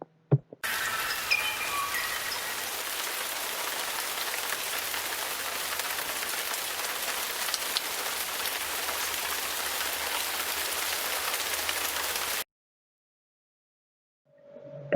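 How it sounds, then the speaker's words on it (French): Heavy rain pours in a dense, steady hiss for about twelve seconds, then cuts off abruptly into silence. "La pluie tombe fort, très fort."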